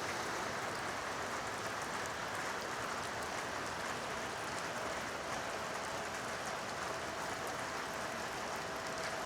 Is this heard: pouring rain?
yes